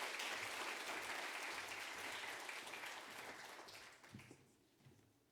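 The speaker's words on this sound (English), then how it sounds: "let's give her a round of applause" An audience at a mentoring panel for university employees breaks into applause, dense at first and then gradually thinning and fading to scattered claps, heard from a distance and faint overall.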